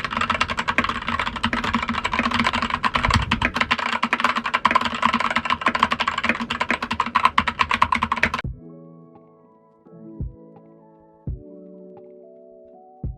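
Rapid, dense typing on a Logitech K855 tenkeyless keyboard with red linear switches and PBT keycaps clatters continuously for several seconds, then stops, leaving a few soft isolated thumps over a quiet musical hum.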